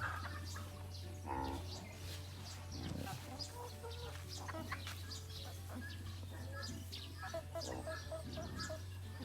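Brahma chickens cluck and call on a farm in the evening, with scattered fowl sounds over a steady low hum and faint background voices throughout.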